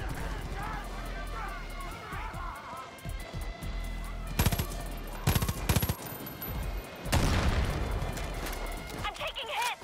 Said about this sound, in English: Fucking mortars coming in!